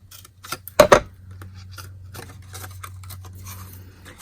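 Scissors snip paper while trimming a papercraft basket box: one sharp, loud cut, then a few quieter rustles and scratches over a low hum.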